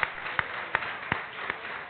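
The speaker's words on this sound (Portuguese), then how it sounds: "Você pode aplaudir ao Senhor" Sparse, evenly spaced hand claps from a church congregation during a celebration service, about five sharp claps over two seconds against a soft room background, with no talking.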